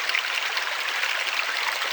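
Lockie Creek in the Tulameen flows in a steady, close, bright rush of water with no pauses and no voices.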